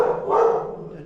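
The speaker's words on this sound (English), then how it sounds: "he's another dog, huh?" A single dog gives a short, muffled bark or yelp inside a house, close and moderately loud, then trails off into quiet.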